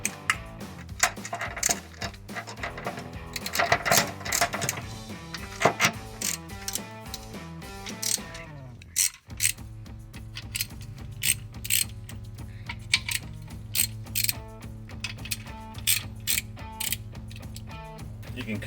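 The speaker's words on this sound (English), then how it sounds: "You need a 1/2 inch socket to take off the stock factory bolts." A 1/2 inch socket ratchet loosening the factory differential cover bolts on a 2011-2014 Ford Mustang V6, rapid clicking pawl strokes in repeated bursts with a brief pause midway, close and crisp.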